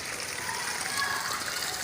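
Water gushing under pressure from a burst pipeline flooding a garden vine, a steady broadband rush and splatter that holds evenly throughout, close and continuous with no talk.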